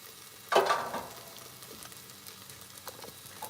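Food frying on an outdoor griddle, a brief louder burst of sizzle followed by a quieter steady crackle and hiss with light spattering.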